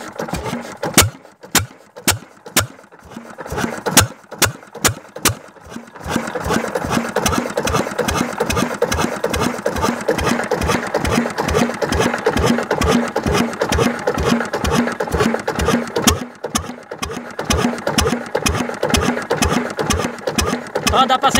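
An old engine runs with a fast, even mechanical beat, first with sharp separate firing pulses, then rising into a denser, louder roar as it is revved, close and continuous.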